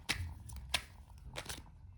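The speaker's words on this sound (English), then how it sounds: "I'm just shuffling off camera." Playing cards being shuffled off camera produce a few soft, papery riffles and taps, quiet and close, with pauses between the bursts.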